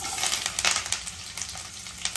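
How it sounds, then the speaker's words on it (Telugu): Onions, dried red chilies, lentils and cashews frying together in a pan for semiya upma, a steady close sizzle broken by scraping stirs of a spatula. "ఇప్పుడు వీటన్నిటిని కూడా బాగా కలుపుకుంటూ ఫ్రై చేసుకోవాలి"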